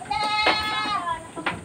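Boer goats, including nannies with newborn kids, bleat inside their pen, with one long wavering cry and shorter calls around it, close and fairly loud over a steady background murmur of farm noise.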